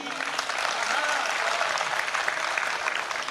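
Audience applause at a Hindi comic poetry recital, a dense burst of clapping from a crowd that holds steady and loud across the whole stretch.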